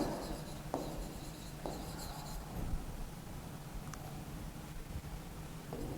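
Pen or pencil writing out numbers for a Class 4 maths lesson on place value, a soft steady scratching with a few sharper tapping strokes, close and quiet over faint background hiss.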